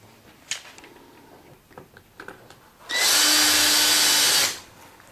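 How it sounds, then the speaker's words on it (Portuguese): A power drill bores through a piece of wood for a folding table with shelves, a steady loud whine of about a second and a half after some quiet handling taps, then stopping. "Eu vou furar numa madeira, na espessura da madeira."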